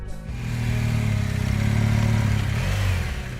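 A dirt bike labouring up a steep hill on a backcountry trail, its engine revving hard in a loud, sustained, throbbing drone that swells and eases slightly, with no speech.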